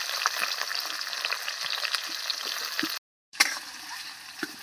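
Nigella seeds, green chillies and chopped onion frying in hot oil, a dense steady crackling sizzle close up, broken by a brief silence and then a sharp burst as more goes into the pan.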